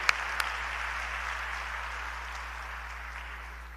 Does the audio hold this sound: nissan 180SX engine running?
no